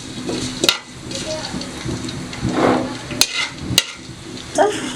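Cumin, fenugreek seeds and curry leaves sautéing in oil, heard as a soft sizzle with several sharp clinks and taps of a utensil against the pan, under occasional talking.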